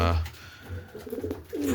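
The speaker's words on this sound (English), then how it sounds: "John Angwin, both quality pigeons." Racing pigeons in a loft give soft low cooing, a few throaty coos near the start and end, mixed with faint rustling and someone talking in the background.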